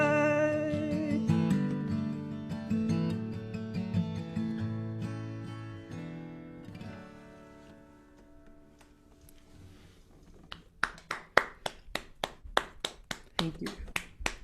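Live audience clapping breaks out after a song at a songwriters-in-the-round performance, sharp claps swelling into steady applause as the music fades out.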